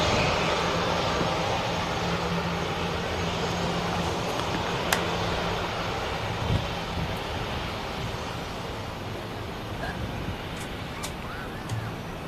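A Jet2 Boeing 757 departs Manchester Airport in the evening, a sustained broadband jet roar heard from a distance that holds steady and slowly fades, with no one talking over it.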